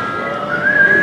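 People imitate a boiling tea kettle's whistle with their voices, a sustained high whistle that holds steady, then rises and grows louder toward the end.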